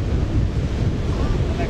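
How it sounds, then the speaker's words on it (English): Strong wind buffets the microphone at a beach on Durban's Golden Mile, a steady loud roar with surf rumbling underneath and no clear speech. "The wind's quite strong"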